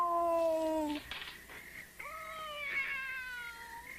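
A human voice imitates a cat, giving a long, wavering meow followed by a second drawn-out meow after a brief pause. It sounds close and clear over a faint room hiss.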